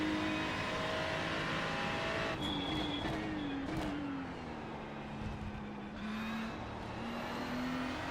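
A race car engine in the iRacing simulator holds a steady drone with shifting pitch as it revs and changes gear, loud and continuous, with a faint whine on top.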